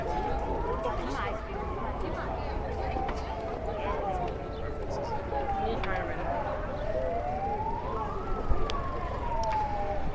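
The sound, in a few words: emergency vehicle siren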